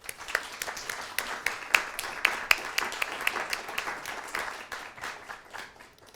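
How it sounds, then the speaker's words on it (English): Audience at a panel event during NYC Jewelry Week clapping for jewelers, a moderate room of scattered, uneven hand claps with a few sharp, close claps standing out before the clapping fades. "Another round of applause for our wonderful jewelers."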